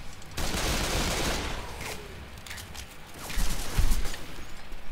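Rapid bursts of gunfire in the zombie shooter Left 4 Dead 2, a dense fusillade of overlapping shots with sharper reports standing out near the end, loud and continuous with no talk.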